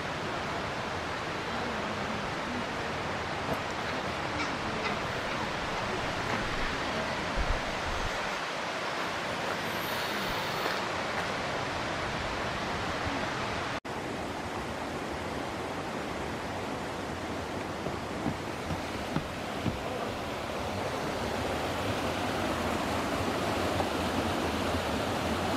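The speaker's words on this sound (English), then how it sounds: "This waterfall is raging." Nojoqui Falls in Santa Barbara pours hard after heavy rain, a steady broadband roar of rushing water that stays loud and unbroken throughout, with no voices.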